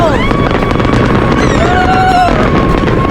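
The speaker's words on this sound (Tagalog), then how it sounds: "Marami fireworks dun." Dense, continuous crackling and popping of New Year fireworks in Greenland, loud and steady throughout, with a whistling tone rising and falling over the noise.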